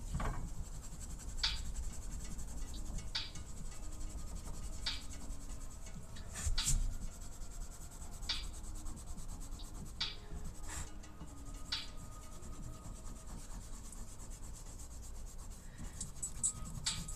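A rubber eraser rubs back and forth on paper in soft, close scratchy strokes, with faint brushing in between and a few sharper taps scattered through the quiet stretch.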